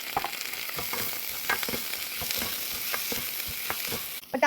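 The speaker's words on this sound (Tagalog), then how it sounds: "So, inuuna ko munang igisa yung sibuyas kasi pag inuna natin yung bawang, masusunog agad." Chopped onion and bottled minced garlic sautéing in a hot pan, a steady close sizzle broken by repeated scraping stirs of a utensil, with no talking.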